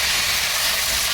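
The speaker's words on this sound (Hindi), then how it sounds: "तेल में मैंने डाल दी कलौंजी, साबुत धनिया, मेथी, तो और थोड़ा सा जीरा, और साथ में मैंने ये डाल दिया" Chopped raw mango with nigella seeds, whole coriander, fenugreek and cumin hits hot oil, giving a loud, steady, broadband sizzling hiss close up.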